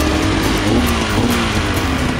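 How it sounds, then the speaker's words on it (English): A snow bike with a two-stroke 800 Polaris engine revs loudly and close, giving a continuous raspy drone with a slightly wavering pitch throughout. "It's a snow bike, but it's got an 800 Polaris motor."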